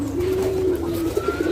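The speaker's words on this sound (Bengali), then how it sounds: "পায়রাগুলো দেখে নাও, এখনই খাবার দেওয়া হয়ে গেছে, তো সবাই খাচ্ছে" Pigeons coo steadily while feeding just after being given food, a close, continuous, murmuring call that rises and falls under soft flock noise.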